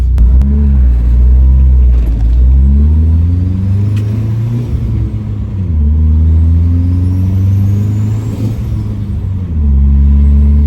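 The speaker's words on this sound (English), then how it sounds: "we got a little idle log first, and then we'll take off" A Dodge Dakota pickup running a swapped, turbocharged SRT-4 engine idles loudly up close, then revs and pulls away with rising and falling engine pitch through gear changes, the drone dominating throughout.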